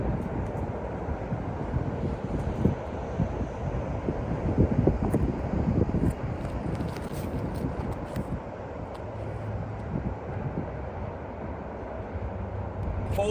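Strong wind gusts blowing across an open outdoor disc golf course at Hellyer Park, a steady broadband rush with buffeting microphone noise throughout and no talking.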